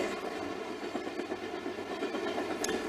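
A small branch-line passenger train runs through Nova Scotia, with a steady rolling rumble and faint clatter from the cars continuing without a break.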